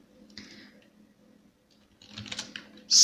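Fingers tap code on a computer keyboard in a short, close burst of keystrokes after a brief pause, ending in a louder clack.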